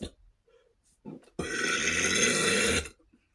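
One long, loud, raspy belch from a person, close up and lasting over a second, preceded by a couple of small throaty grunts and followed by quiet.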